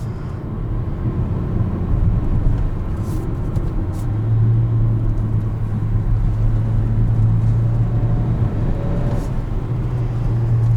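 A 2021 Kia Seltos SX Turbo crossover with all-wheel drive is driven hard through corners, its engine and road noise forming a steady, loud low rumble with a droning tone rising partway through; no voices.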